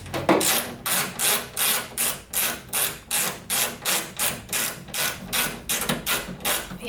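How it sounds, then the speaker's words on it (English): A 10mm socket on a ratchet loosening bolts around a car's hood ducting, heard as a steady, even run of close clicking ratchet strokes repeating about twice per second. "Next is to remove all the bolts around the ducting."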